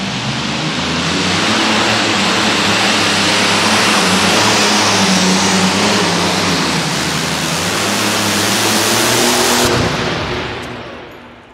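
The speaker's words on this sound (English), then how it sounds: "That little bit of extra RPM on that V12 Allison when he took the load off those rear tires." V12 Allison engine in a pulling vehicle at a truck and tractor pull, a loud, sustained roar revving under load for about ten seconds before cutting off abruptly.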